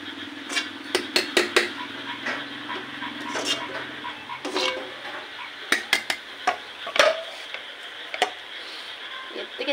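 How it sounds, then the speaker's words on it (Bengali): Onions fry in oil in a pan for kacchi biryani, a steady hiss of sizzling broken by frequent sharp clinks and scrapes of a utensil against the pan. "আর শুধু পেঁয়াজটুকুই আমি ভাজি করে নিচ্ছি সাদা করে।"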